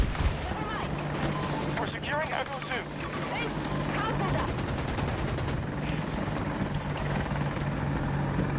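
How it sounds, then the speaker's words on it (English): A stealth helicopter in the video game Battlefield 2042, its steady rotor drone running throughout while bursts of rapid gunfire crackle over it and players talk over the action. "Stealth heli just spawned."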